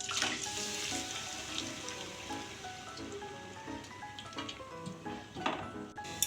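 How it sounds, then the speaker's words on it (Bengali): Grated pineapple and water go into a hot pan for Bengali-style sweet and sour pineapple chutney, giving a steady, close hiss and sizzle with bubbling and faint metallic clinks throughout. "এখন আমি গ্রেট করে রাখা আনারসটা দিয়ে দিব। আমি জল শুদ্ধ কিন্তু দিয়ে দিচ্ছি।"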